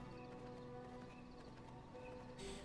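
Horse hooves clip-clop in the V Rising video game, a steady muffled patter of steps within dense game ambience and music, moderately loud throughout.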